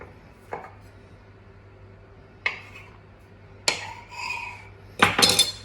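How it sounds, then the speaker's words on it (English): A knife cuts a sheet of pastry for homemade sausage rolls, a few spaced taps of the blade on the board building to a couple of firmer clacks at the end, quiet kitchen, no talk. "cut the pastry in half across the length"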